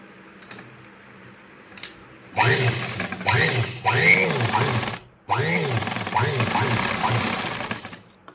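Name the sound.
sewing machine stitching blouse side seams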